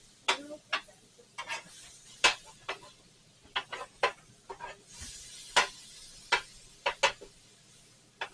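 Cheesesteak meat sizzles on a griddle under a low hiss while a spatula chops and scrapes it in sharp, irregular metallic clacks, about a dozen strikes, close and crisp.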